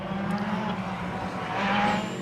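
A rally car sliding on a slippery special stage of the Monte-Carlo Rally, a short, steady, distant engine drone with faint tire noise throughout.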